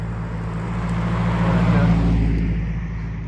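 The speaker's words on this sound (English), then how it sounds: "here's a car coming" A car drives past on a street close by, its broadband road rumble swelling toward the middle and fading away over a few seconds, alone with no talk.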